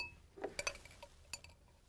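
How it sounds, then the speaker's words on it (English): Glass test tubes breaking and broken glass clinking together, a few sharp bright clinks and tinkles spaced irregularly, fairly faint and close, with no talking. "I'm going to take a third tube and break it"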